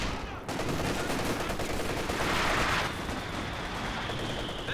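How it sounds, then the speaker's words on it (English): Artillery barrage in the Company of Heroes 2 strategy game, with dense, continuous explosive rumble and crackling gunfire, a louder hissing shell swell near the middle, and faint talk underneath. "Looks like he's going for a regular barrage here though, maybe? Trying to clear out the trench, jumps out before the shell even lands."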